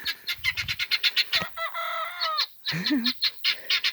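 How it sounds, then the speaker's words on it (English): Rapid, harsh, repeated squawking calls from several guinea fowl nearby, with a brief higher squeal in the middle and a lower gurgling note. "You can hear the guineas."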